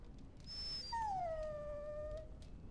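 A dog in the video game Dragon Age: Origins lets out a single drawn-out whimpering whine, preceded by a brief higher yelp, fairly quiet and alone without speech.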